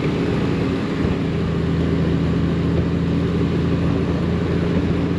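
Honda Goldwing motorcycle engine running steadily while riding on the road, a loud continuous drone with low rumble and wind roar, unbroken throughout, no talk.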